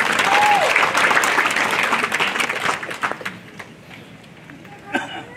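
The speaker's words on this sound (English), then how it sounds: "Please give him a round of applause." Audience applause at a 2022 high school graduation ceremony, a loud sustained crowd clapping that fades out over several seconds with a few scattered claps at the end.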